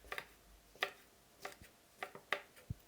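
Knife slicing half a red chili pepper into thin rounds and diagonal pieces, heard as about eight crisp, close taps against a cutting board in an uneven rhythm, quiet and with no voices.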